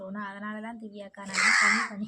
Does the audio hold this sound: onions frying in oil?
no